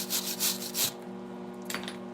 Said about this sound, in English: I'm gonna weld this up a little bit more